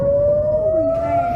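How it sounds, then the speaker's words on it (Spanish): Air raid siren sounding in Israel during an Iranian ballistic missile attack: a single sustained wailing tone that slowly rises in pitch, loud and close, with faint background noise. "Las sirenas sonaron en Israel."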